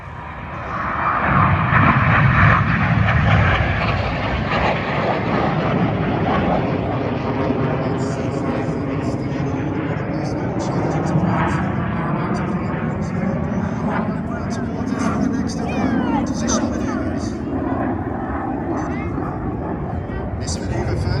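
Red Arrows jet aircraft fly at the Duxford summer airshow, a loud, sustained roar that swells and drifts overhead, with a commentator talking over it throughout.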